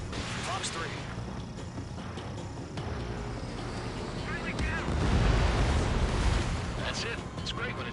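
A missile brings down an enemy bomber in Ace Combat 7, a swelling rumbling explosion rising over continuous jet and battle noise, with radio chatter voices heard throughout.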